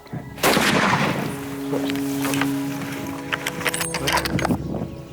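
Rifle fired at a Cape buffalo bull on a hunt in Tanzania, one sharp, loud shot near the start followed by a decaying echo and faint outdoor rustling.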